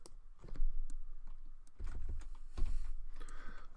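Typing on a computer keyboard, a run of soft irregular key clicks with low thumps, fairly close and alone, with no talk.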